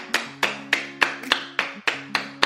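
Hands clap in a steady rhythm, about eight crisp claps spaced evenly, close and clear with no talking.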